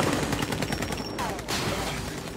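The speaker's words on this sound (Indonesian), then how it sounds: "Billy langsung memberondong mobil Frank dengan tembakan hingga membuat mobil itu menabrak mobil lain" Bursts of rapid automatic gunfire rake a car in an action film scene, dense crackling shots layered over engine and crash noise, loud and continuous with a sharp impact midway.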